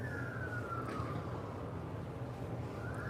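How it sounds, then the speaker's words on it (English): A siren from an ambulance or fire truck rises and falls in a slow continuous wail through Gudvangen, Norway, sounding fairly distant and steady over low background rumble, with no talking. "It sounds like an ambulance, or is it a fire truck?"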